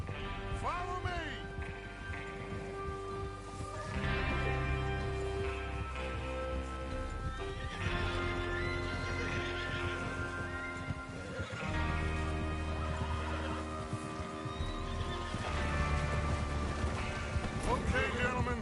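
Horses whinny and hooves clip-clop in Red Dead Redemption II as a gang readies to ride out for a train robbery, with neighs rising over the hoofbeats while voices talk and music plays throughout.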